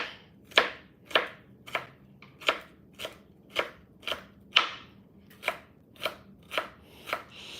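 Knife chopping jalapeños on a cutting board, with a dozen or so sharp, crisp knocks at a steady, unhurried rhythm, close and clear with no talking.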